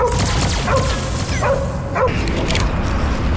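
Cosmo the dog from Marvel's Guardians of the Galaxy video game whimpers and yips in repeated high, pained cries, loud and close over a dense, busy game soundscape.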